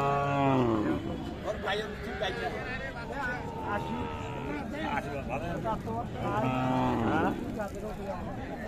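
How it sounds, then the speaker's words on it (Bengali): Cattle, bulls, calves and cows, moo loudly several times at a livestock market, the long calls rising and falling, with people's voices and crowd bustle around them. "দেখছেন ষাঁড় বাচ্চা"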